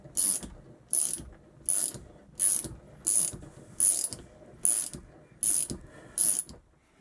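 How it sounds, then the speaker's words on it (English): Bolt on a 1977 Kawasaki KZ650 front fork held in a vise is loosened with an Allen key ratchet, giving nine evenly spaced, crisp clicking strokes, close and with no talking. "I'm actually removing, I've actually got it in the vise, and I'm actually removing the bottom Allen key"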